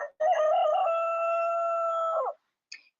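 A loud, close chicken call sound effect played on a livestream: one drawn-out crowing tone of about two seconds, followed by a brief faint chirp, with silence around it.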